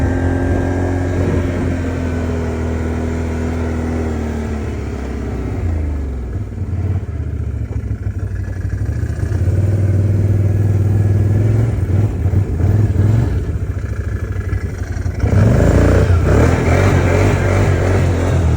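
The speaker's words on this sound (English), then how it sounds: "Must wheelie on this hill." A 2019 Can-Am Outlander 570 ATV climbing a hill while attempting a wheelie, its engine droning loud and close with rising and falling revs, surging louder near the end.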